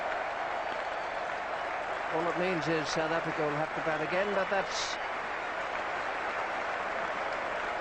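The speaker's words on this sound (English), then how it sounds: "they're giving Angus Fraser a very, very hearty cheer, and Robert Croft too for that matter" Cricket crowd at an England versus South Africa Test match cheering and applauding England bowlers Angus Fraser and Robert Croft, a broad sustained roar and clapping throughout with a commentator talking over it.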